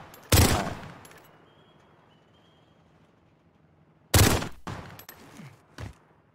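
Pistol gunfire in Call of Duty, loud close shots: one sharp report early, then after a long quiet gap a burst of three quick shots with a fading tail.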